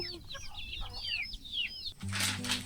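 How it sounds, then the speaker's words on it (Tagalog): Hungry chickens cluck and chirp in a busy, overlapping chatter, then a sudden burst of flapping wings takes over near the end, close by. "Ba't nandito yung mga manok na ito? Gutom na daw sila ulit."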